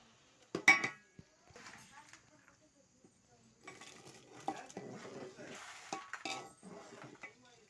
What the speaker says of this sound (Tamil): கருப்பட்டி உள்ளே போட்டுக்கோங்க. நல்லா கிளறி கொடுங்க.